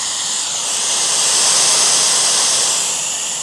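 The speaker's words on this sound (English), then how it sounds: "So this is white noise" An iPhone white noise machine gives off a steady, loud broadband hiss, smooth and unchanging apart from a slight swell in the middle, with no voices.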